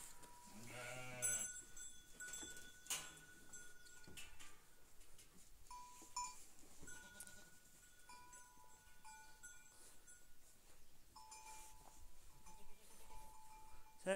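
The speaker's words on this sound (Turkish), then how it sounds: "Koyunlar burada." Sheep, Karayaka breed, bleat amid a busy farmyard with Aleppo goats, a quick burst of bleating near the start and scattered animal calls and clanks throughout.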